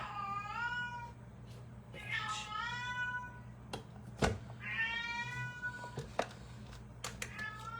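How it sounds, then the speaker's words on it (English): A house cat meows repeatedly at close range, several drawn-out, wavering cries spaced across the clip, with a few sharp knocks and clicks between them and no clear speech. "It's my cat."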